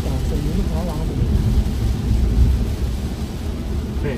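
Heavy rain roars steadily against a car in motion on a road drive, a dense low rumbling wash that stays loud throughout, with a voice talking over it.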